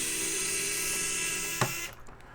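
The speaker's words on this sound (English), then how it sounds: "this drill bit works perfect." A power drill fitted with a drill bit whines steadily at close range while working on an AMD RX5700 graphics card, then stops with a sharp click and brief clatter.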